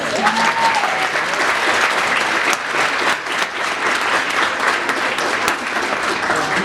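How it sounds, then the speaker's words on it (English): An audience gives a sustained round of applause at a Women in Supply Chain and Logistics event. The clapping is dense and even from start to finish, with a brief dip midway. "I think they deserve a round of applause"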